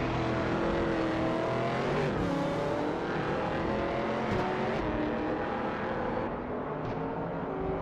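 A 2009 BMW M3 GTS race car engine in a racing video game, a steady loud roar held at high revs with shifting pitch and brief gear-change dips, with no speech.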